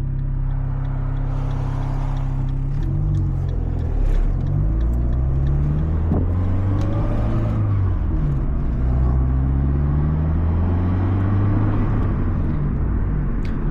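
Abarth 500 heard from inside while driving: a steady low engine drone and road rumble with rising and falling engine tones as it accelerates and shifts, loud and continuous throughout.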